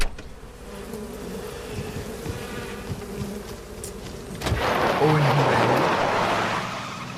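A dense swarm of bees buzzes steadily around a stopped car on a roadside, growing louder and closer partway through, with a person speaking briefly over the hum.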